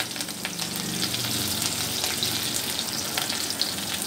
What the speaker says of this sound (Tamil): கொஞ்சம் கறிவேப்பிலை போட்டுக்கலாம்.